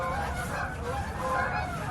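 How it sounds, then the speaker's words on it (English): Geese calling and honking over a lake during winter ice fishing, a steady cluster of overlapping honks heard at moderate distance for the full stretch, with no speech. "as you can hear, there's some geese trying to land on here"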